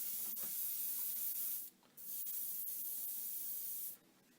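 Steady airbrush-like hiss of a spray gun applying aluminum model paint, compressor at about 10 psi, broken by two brief pauses where the trigger is released, with faint compressor noise underneath.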